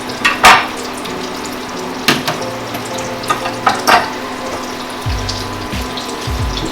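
Half a tablespoon of butter melts in a teaspoon of extra virgin olive oil in a pan, sizzling softly and steadily, with a few sharp clinks and light knocks scattered over the quiet frying.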